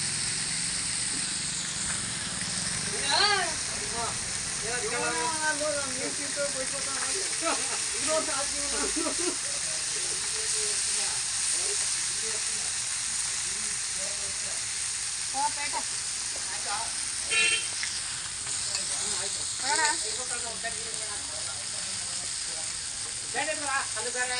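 Semolina-coated fish tawa-frying on a hot griddle gives a steady broadband sizzle throughout, with voices talking over it at intervals.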